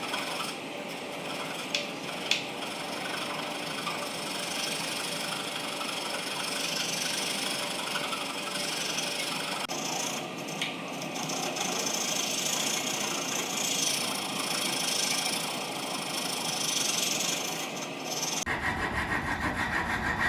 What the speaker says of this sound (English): Most of the time I am filing against the grain.